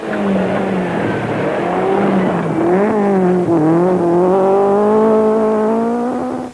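A rally car at the 1972 Welsh Rally roars past close by, its engine note rising and falling through gear changes with a strong, steady tone over several seconds, no speech.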